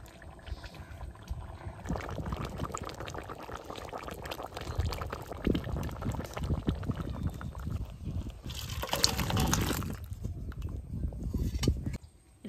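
A Bengali rita fish curry with potato, tomato and cumin paste simmers and bubbles in a pot, giving a steady close bubbling hiss with louder popping bursts near the end.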